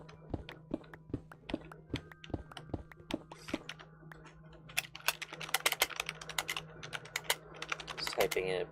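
Computer keyboard typing in a session on a Minecraft civ server, with steady clicky keystrokes, sparse at first and then growing into a dense, rapid burst, close and clear over a low background hum.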